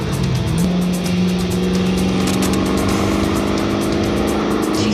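A 2008 Corvette Z06 race car with well over 1,000 horsepower accelerates hard, its engine note climbing steadily as a loud, continuous roar heard from on board, with no talking.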